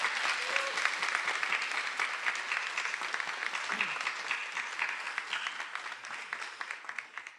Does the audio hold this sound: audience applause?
yes